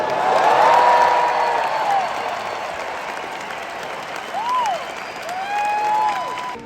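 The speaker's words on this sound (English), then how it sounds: "Let's hear it for George" A concert crowd at the O2 in London applauds steadily, fading slightly, with a few whoops and whistles rising over the clapping.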